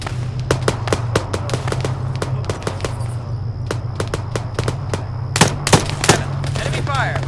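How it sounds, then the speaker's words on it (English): Gunfire in the ArmA 3 video game: rapid, loud sharp shots in irregular bursts over a steady low rumble, with brief distant radio-style voices underneath. "Enemy fire!"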